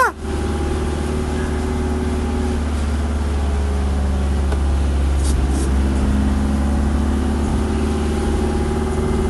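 A vegetable transport car on racing tyres runs fast around the Mandalika circuit, its engine a loud, steady, droning hum with road roar that holds near constant throughout.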